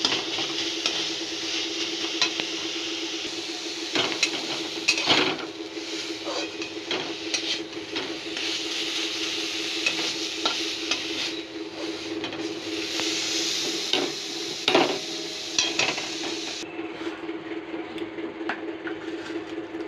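Oil sizzles in a kadai as nigella seeds are tempered. A steady frying hiss runs throughout, punctuated by frequent scraping stirs of the spatula against the pan.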